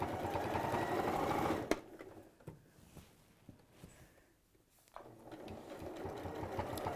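Sewing machine stitching fabric for a bag project, a fast close mechanical whir that stops briefly while the stitch length is changed, then starts up again.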